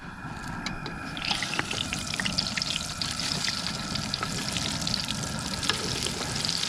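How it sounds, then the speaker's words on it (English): Flour-coated wild turkey legs, dipped in milk, fry in hot bacon grease with a steady, close crackling sizzle throughout, broken now and then by brief pops and faint clinks. "now I'm about to dip them in hot bacon grease"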